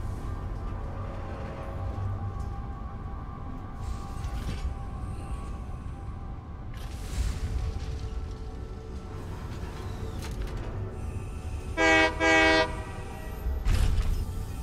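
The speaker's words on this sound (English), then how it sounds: "You can honk the train horn, which is fun." A train horn sounds in a video game, two short honks close together, loud and upfront over a steady bed of game ambience and rumbling rail noise.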